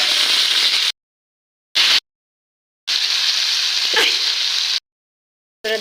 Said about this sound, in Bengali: বেগুনটাও একটু ভাজি করে নেবো আমি